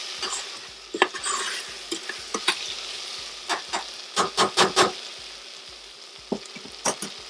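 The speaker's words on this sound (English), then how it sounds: "Now we're going to go ahead and throw in our tomato sauce." Tomato sauce poured into a lentil soup pot and stirred, giving a steady low sizzle with a run of sharp spoon scrapes and clacks against the pot, clustered bursts near the middle and a few more toward the end.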